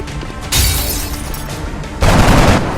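Loud gunfire erupts in the XCOM video game as a soldier opens fire, a sharp burst followed by a sustained roll and a second heavy volley near the end.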